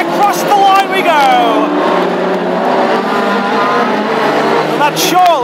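Several Ford Escort hot rod race cars roar across the finish line together on an oval track at a Scottish Open Championship final, engines loud and sustained with swelling passes and revs, a commentator talking over them throughout.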